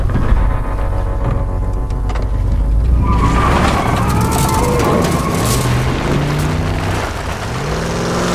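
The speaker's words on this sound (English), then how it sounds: "All right, Ellie, start it up. You hear that sound, Bill?" In the video game The Last of Us, Bill's truck starts up. After a few seconds of quiet rumble, the engine cranks and catches, then runs loud and close, revving with shifting pitch.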